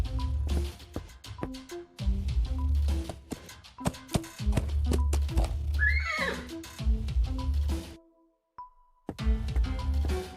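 A horse in the adventure game Willy Morgan and the Curse of Bone Town lets out a loud, close whinny, rising and then trailing off, with game music and clip-clop sounds around it and a brief quiet gap near the end.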